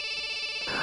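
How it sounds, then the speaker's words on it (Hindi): A phone's electronic ringtone plays as sustained, bright, layered tones that stay steady and near, shifting pitch toward the end, with no voices. "अरे बार बार फोन बज रहा है, उठाते क्यों नहीं हो?"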